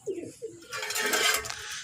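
Pigeons near a person scattering a grain mix give low, soft coos in two short bursts, then a broadband rustle of wings or scattering grain follows, fairly close.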